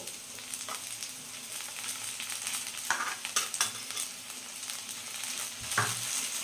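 Okra (bendakaya) frying in a pan with garlic chili powder, a soft steady sizzle with occasional scraping stirs of a spoon against the pan.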